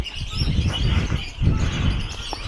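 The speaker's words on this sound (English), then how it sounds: "you can hear the peach-faced lovebirds kicking around" Peach-faced lovebirds chirp in a bird shop, with soft, busy twittering over a dense, steady indoor rumble and a few brief calls standing out.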